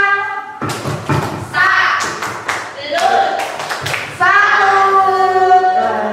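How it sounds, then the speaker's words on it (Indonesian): Scattered hand clapping from a school staff gathering, irregular claps and thumps mixed with voices talking and calling out over them. "Kita beri tepuk tangan ya, tepuk tangan."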